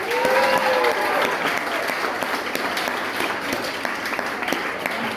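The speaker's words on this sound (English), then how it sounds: "please give a big round of applause for your winner of the second half, Jack Knight." Comedy club audience applauding a stand-up contest winner, full sustained clapping throughout, with a brief voice early on and cheering mixed into the steady patter.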